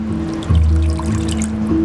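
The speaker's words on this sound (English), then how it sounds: "add a little water, and we're gonna make a slurry. Add that slurry." Cornstarch and water slurry poured into a pan of eggplant sauce, giving a short liquid splash and trickle that stands out briefly against a steady background hum.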